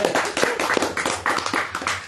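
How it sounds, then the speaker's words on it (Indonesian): A seated audience at a talk on religion claps together in a quick, irregular burst of hand claps, fairly close and continuous for about two seconds. "Tepuk tangan."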